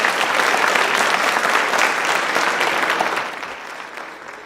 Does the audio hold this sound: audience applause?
yes